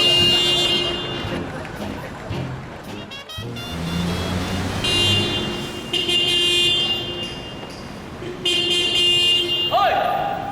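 A car horn sounds in repeated short toots amid street and vehicle noise, mixed with talking voices over the scene.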